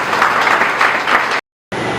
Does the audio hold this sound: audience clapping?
yes